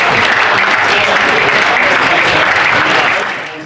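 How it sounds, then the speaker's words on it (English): Loud, sustained applause fills a room at a football club's awards ceremony, a dense wash of many hands clapping at once that holds steady and then begins to fade toward the end. "Mark was about to start a round of applause. I think it deserves one."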